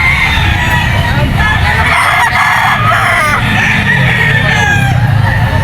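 Yellow-legged roosters at a pet market crowing and clucking, several birds at once in a loud, close, continuous clamor.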